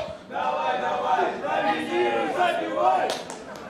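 Sports fans' crowd noise swells and cheers continuously in a large indoor arena during a match, with voices blending into a loud roar throughout.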